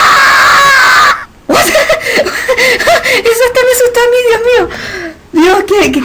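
A Happy Wheels game character lets out loud, shrill screams with warbling pitch, rising over a short pause and continuing in bursts, mixed with a player's excited talk and laughter.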